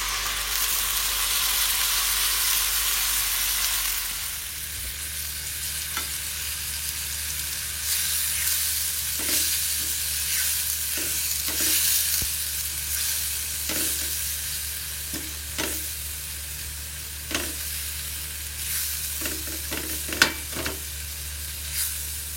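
A ground spice paste sizzles as it fries in a pan with wilted garlic and shallots, a steady close hiss broken by repeated scraping stirs of a utensil, with no talking.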